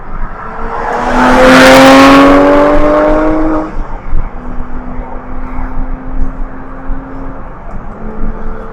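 Porsche 911 GT3 passing on a motorway, a loud rising engine and tyre roar sweeping close by, then fading into steady road noise.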